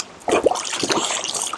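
Water sloshes and churns in a bucket as laundry is washed by hand off grid, in close, irregular splashy swirls with no talking.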